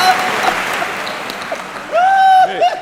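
Applause from the crowd at a Hindi comedy poetry gathering rises and fades over a couple of seconds, and a rising whistle-like vocal sound cuts in near the end.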